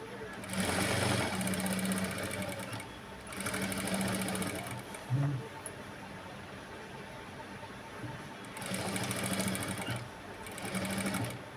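A sewing machine stitches a work blouse neckline in four bursts of steady whirring, with quiet pauses in between where someone speaks.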